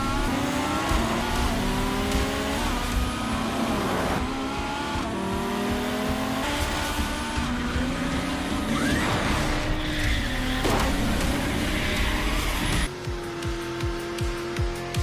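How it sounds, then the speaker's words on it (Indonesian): A Ferrari and a Nissan Skyline race, with engines revving and climbing through the gears and tires squealing, all loud and continuous over a dense backdrop. "balapan singkat antara Ferrari melawan Skyline"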